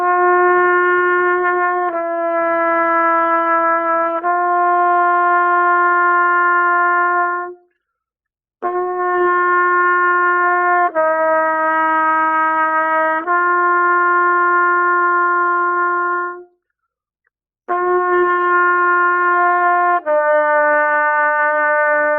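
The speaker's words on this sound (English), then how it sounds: "that concert F all the way down to the lower concert F, and you're playing all of the notes in between chromatically" Brass instrument playing a Remington warm-up: sustained chromatic long tones slurred in pairs downward from concert F, each held several seconds, with clear breaks for breaths between phrases, close and loud.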